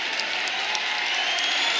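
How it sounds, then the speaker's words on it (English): A large crowd inside Reynolds Coliseum roars and applauds at a college wrestling match, a dense, continuous loud cheer with scattered claps and shouts. "It's a tremendous crowd inside Reynolds Coliseum, trying to urge Jack on"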